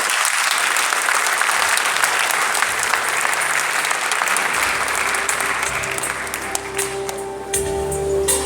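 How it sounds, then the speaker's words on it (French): A large audience at a formal ceremony with dignitaries breaks into loud, close applause that continues without pause and then tapers into sparser individual claps. "je vous applaudis."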